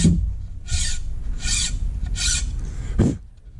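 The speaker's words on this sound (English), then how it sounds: "I'm sure this file isn't the right size of file to be cutting dang near a half inch wide saw blade" A metal file is drawn across a Victorinox Hiker pocketknife saw blade nearly half an inch wide in four separate close, loud rasping strokes, each about a third of a second long, with short pauses between.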